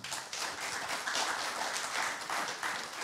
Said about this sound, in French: On peut les applaudir, bien sûr.